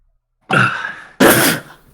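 A person sneezes twice in quick succession, loud and close, with a brief pause between the two sharp bursts.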